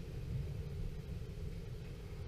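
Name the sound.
thunderstorm thunder rumbling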